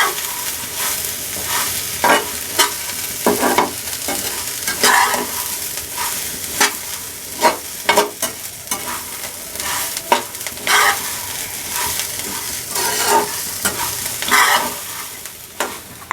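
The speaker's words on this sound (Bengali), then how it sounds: "এখন এটাকে নেড়েচেড়ে খুব ভালোভাবে মিক্স করে নিতে হবে।" Puffed rice and egg are stirred in a hot pan, the spatula scraping and tossing in uneven bursts over a continuous sizzle, close up and clear for the whole stretch.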